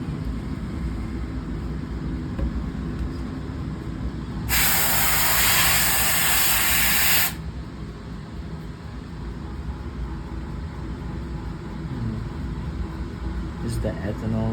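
An ethanol spray rinses a polished AlSi10Mg 3D-printed aluminium tensile bar, giving one steady, loud hiss that lasts about three seconds. A faint background hum runs before and after it.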